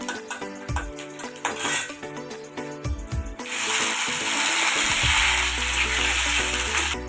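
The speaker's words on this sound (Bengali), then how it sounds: "এখানে আমার টমেটো ভাজা ভাজা হয়ে গেছে" Tomatoes and garlic, with peanuts, frying in a pan: a few clatters of utensil against metal, then a loud, steady sizzle that fills the rest, close up and with no talk.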